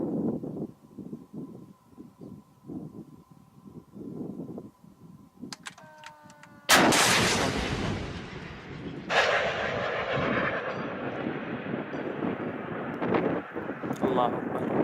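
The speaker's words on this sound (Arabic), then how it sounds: "الصاروخ الثاني استهداف دبابة." A missile strike on a tank in the Syrian war arrives as a sudden loud blast partway through, followed by a long rumbling roar, after faint chanting voices and a brief mechanical whine.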